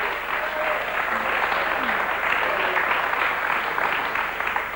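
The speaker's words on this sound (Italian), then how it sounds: "io faccio scemare naturalmente gli applausi" Studio audience applause on an Italian television morning show for a Neapolitan singer, a steady dense clapping that carries on evenly at full strength from start to finish.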